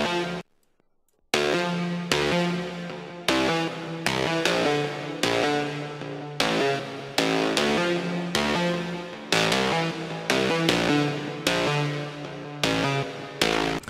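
A lead sound played like a synth in FL Studio, a steady run of bright electronic notes with sharp attacks in a rhythmic pattern, loud and close, after a brief silent gap near the start.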